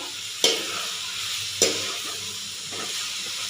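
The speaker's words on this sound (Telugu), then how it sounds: "ఇంకా ఇప్పుడైతే కట్ చేసుకున్న ఆలు వేసుకుందామండి. అన్నీ బాగా కలుపుకుందాము." Cut potatoes fry in a pan under a steady close sizzle while a utensil stirs them, with two sharp scraping clatters and a softer third stroke over the continuous hiss.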